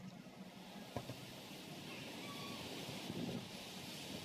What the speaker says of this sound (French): Oh, regardez comme les vagues les ont engloutis.